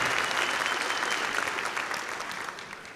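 An audience at a conference opening ceremony applauds border agents, with dense, continuous clapping that slowly fades toward the end.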